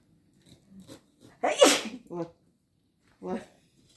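A single loud, close sneeze bursts out at a durian-opening session, surrounded by bits of quiet talk before and after.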